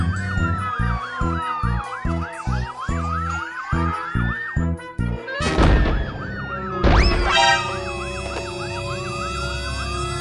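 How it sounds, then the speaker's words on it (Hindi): A police siren wails loudly and close, its rising and falling tone cycling repeatedly over engine noise and rhythmic thumping. "पुलिस की गाड़ी।"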